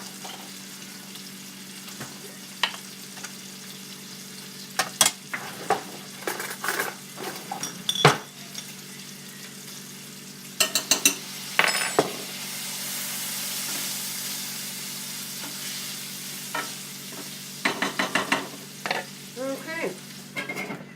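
Leek and minced garlic fry in a pan with a steady low sizzle, broken by bursts of sharp metal clatters and scraping stirs, with brief speech in between.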